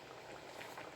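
Bulanglang vegetable broth with string beans simmers in a pot, a faint, steady bubbling with soft broadband hiss that stays even throughout, no voices present.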